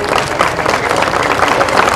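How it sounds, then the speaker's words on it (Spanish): An audience at a public event bursts into a dense, steady round of applause, with many hands clapping close together at a constant level throughout. "para los cuales pediría un aplauso porque nos han entregado"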